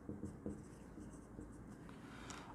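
Pen writing a cash book entry on paper, soft scratchy strokes close up, a few faint taps at the start, quiet and continuous.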